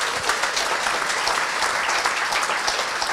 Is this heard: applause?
yes